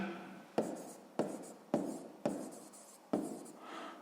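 A pen writes math notes by hand for a sixth-grade geometry exercise on circle area, making five or six sharp strokes, each a scratchy tap fading quickly, close and alone.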